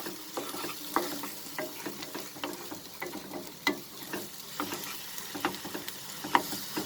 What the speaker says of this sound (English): Now we will mix it with the tomato and onion.